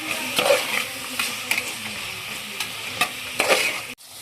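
Vegetables frying in oil in a pan while being mixed, a steady close sizzle with occasional scrapes and clacks of a spoon against the pan.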